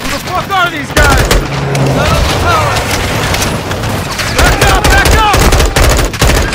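Dense firefight gunfire from Call of Duty: Modern Warfare II, with rapid bursts and booming shots running continuously and loudly throughout, while shouted voices break in over the shooting.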